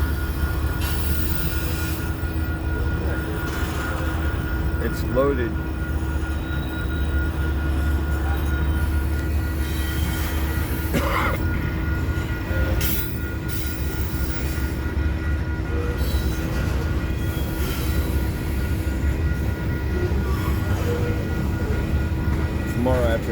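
A loaded corn freight train rumbles past near Blair and Fremont, Nebraska, a steady low roar with occasional wheel squeals across the pass, and a person speaks briefly over it.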